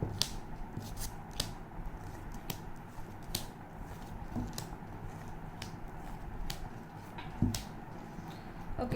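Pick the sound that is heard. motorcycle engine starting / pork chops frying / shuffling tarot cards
shuffling tarot cards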